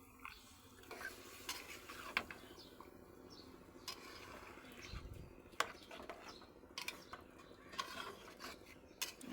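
Meat cooking in a pot, stirred with a utensil: faint scraping and clinks of metal against the pot over a soft sizzle, with occasional bird chirps in the background.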